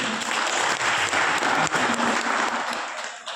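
An audience applauds a holy man in a hall, a dense burst of clapping from many hands that holds steady and then thins out toward the end.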